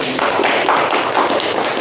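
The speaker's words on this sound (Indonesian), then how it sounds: "tepuk tangan untuk Putri" A classroom of students gives a short burst of applause for a classmate, dense overlapping clapping that stays steady and fairly loud throughout.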